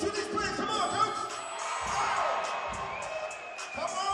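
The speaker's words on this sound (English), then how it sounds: "round of applause to these players" Spectators at a women's basketball game applaud and cheer with whoops, the crowd noise steady across a few seconds while voices call out and chatter over the top.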